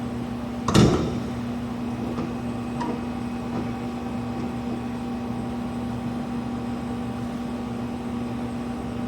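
The door of a laboratory glove box, an MBraun Labmaster 130, shuts with a single close thud, followed by a few faint clicks over a steady mechanical hum.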